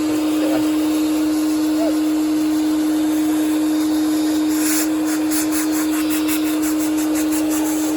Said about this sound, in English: Aye, it's a good wee hoover, guys.